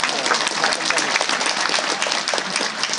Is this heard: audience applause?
yes